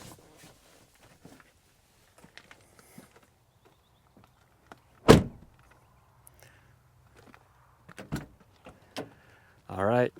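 Mostly quiet interior of a Toyota Land Cruiser 80 Series with scattered small clicks, then a sharp car door thunk near the middle and more door handling and a final closing thump.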